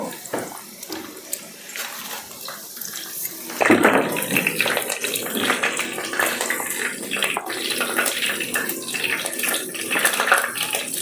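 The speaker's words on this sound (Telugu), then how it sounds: "కరివేపాకు చెటపట్లాడింది" Curry leaves dropped into hot oil in a clay pot burst into loud spluttering after a quieter start, then keep up a dense, close crackling sizzle to the end.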